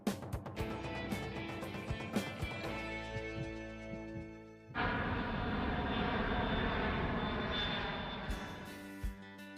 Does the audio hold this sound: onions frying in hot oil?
no